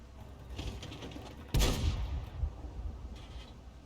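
A single loud tank cannon shot in World of Tanks, with a sharp close blast followed by a rumbling decay over faint battlefield ambience and a few distant thuds.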